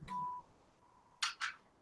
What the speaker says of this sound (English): Where did that beep come from?